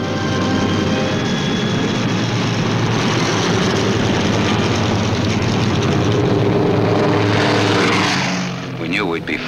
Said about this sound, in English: Then we heard the roar of engines as the Pathfinder ships began hopping off.